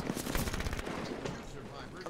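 Rapid video game gunfire from Halo crackles in dense bursts through the first second, then thins to scattered shots, with voices talking over the fighting.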